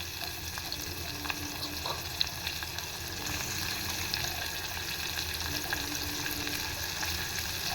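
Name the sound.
frying dried Bombay duck fish on low flame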